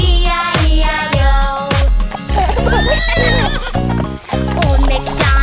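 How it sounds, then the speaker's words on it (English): A horse neighs loudly in a sung children's nursery rhyme about a farm, a whinny ringing over upbeat music with clip-clop percussion. "And on this farm he had a horse"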